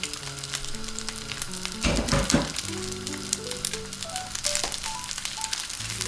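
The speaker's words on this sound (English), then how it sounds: "Once the oil is hot and fragrant, add the rice and egg mixture." Rice and egg mixture sizzling in hot oil fragrant with garlic, a steady close frying hiss with a brief louder burst partway through, no voices, with some tonal background hum throughout.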